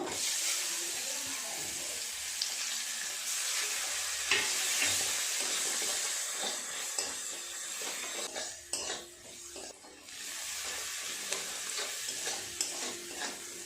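Chopped onions fry in oil in a pan, cooked until reddish-brown for a pangas fish dish, with a continuous close sizzle and occasional scrapes and stirring clatter. The sizzle dips briefly partway through.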